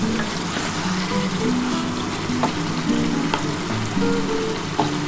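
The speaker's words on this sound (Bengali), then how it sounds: "দেখো দারুণভাবে কষানো হচ্ছে পুরো দেখতেই তেল ছেড়ে এসছে" Mutton dak bungalow curry fries in oil, a steady, moderately loud sizzle like light rain, with a few soft stirring knocks and faint tonal sounds in the background.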